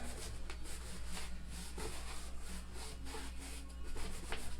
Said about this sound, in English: And I'm just buffing that out.